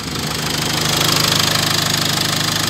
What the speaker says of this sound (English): when I rev it, you listen. There's that knock.